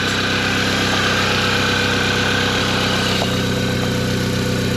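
A Mini engine idles smoothly just after its first start, a loud, steady, close mechanical hum with constant vibration and no voices.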